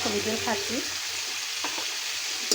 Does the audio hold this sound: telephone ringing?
no